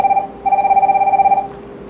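Smartwatch ringing for an incoming landline call: a steady electronic ringtone of sustained tones, a short burst, a brief gap, then a longer ring that cuts off, fairly loud and close.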